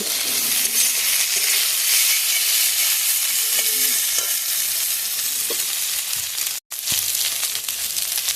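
Mixed vegetables and potatoes hiss steadily in a hot pan, a dense close sizzle with a few soft stirring scrapes, briefly cutting out to silence for a moment before the frying resumes.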